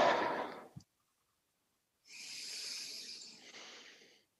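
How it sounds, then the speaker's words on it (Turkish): Several people draw a slow, deep breath together and release it, a soft airy rush of breathing that falls silent and then returns as a long, hissing exhale. "Hadi şöyle ailecek bir derin nefes alalım mı?"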